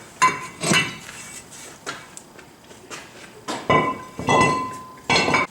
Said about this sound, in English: Now we're going to remove the caliper bracket, and we're going to remove the rotor.